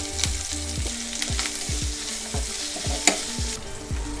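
Onions, curry leaves, asafoetida and dried red chillies sizzle loudly in hot oil in a pan for cucumber dal, a constant close crackle broken by repeated soft knocks and scrapes.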